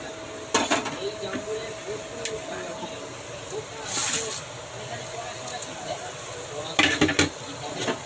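Food sizzles and fries steadily in a pan while a spatula stirs and scrapes, with occasional knocks against the pan, and a person talks softly over the cooking.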